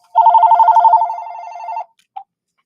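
A telephone rings with a fast warbling electronic trill for nearly two seconds, loud and close, followed by a single short chirp after a pause.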